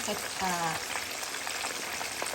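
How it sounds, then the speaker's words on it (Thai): Shrimp frying in hot oil gives a steady, dense sizzle throughout, with a voice speaking briefly over it near the start. "อันนี้กุ้งก็ทอด"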